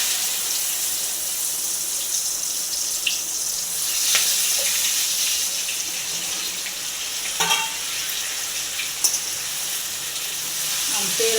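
Okra goes into hot oil already seasoned with popped mustard seeds, asafoetida and turmeric for a Gujarati bhindi shaak, giving a steady, fairly loud hiss of sizzling across the whole stretch, with a few brief clinks and spikes from the pan.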